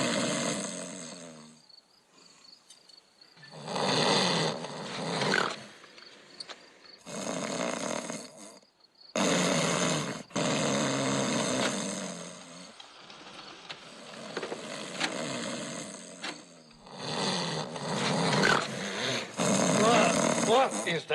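Loud, steady snoring played back from a tape recorder, rasping breaths repeating every couple of seconds in long bursts with short gaps, close and alone.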